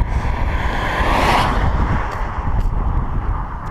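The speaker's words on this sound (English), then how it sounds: "but it also happens to be windy." Steady, loud wind buffeting the microphone with a low rumble throughout, rising into a stronger gust near the start.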